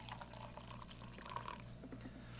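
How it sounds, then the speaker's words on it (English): Water poured into the cup of a Dutch military 24-hour MRE ration, a quiet steady trickle with small splashy drips and a low background hum, no voices. "Let's blast a cup of water in here."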